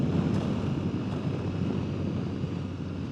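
Wind rushing steadily outdoors through trees, a broad low roar with gusty buffeting on the microphone and no talking.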